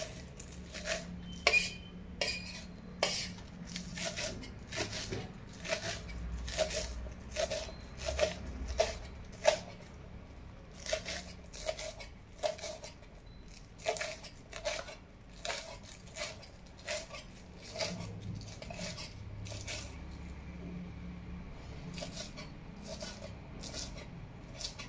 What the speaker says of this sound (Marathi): तर मी आता बघा बारीक असं चिरून घेणार आहे